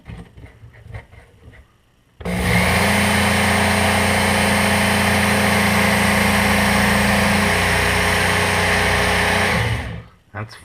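A Work Sharp Knife & Tool Sharpener, Ken Onion Edition, switches on with an abrupt start and runs as a loud, steady electric motor whine with belt grinding for about eight seconds before stopping, after some quiet handling sounds.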